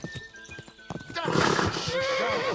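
A few hoof clops, then a horse in Kingdom Come: Deliverance II gives a loud, quavering whinny that trails off, heard up close.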